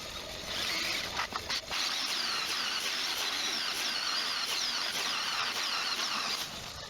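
A hole saw cuts gauge holes into an Allmand SuperNova race boat, giving a steady, close, high-pitched grinding whine that runs almost without pause, with no talking.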